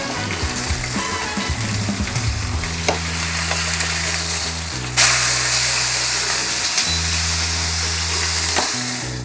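Large breaded garlic mushrooms fry loudly in a pan of hot oil, a dense continuous sizzle with a sharp surge of hiss as more pieces go back in, over a low steady hum.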